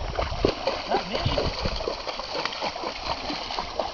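Water splashing and sloshing continuously while several dogs are being bathed, a steady busy wash of splatters at close range with voices talking over it.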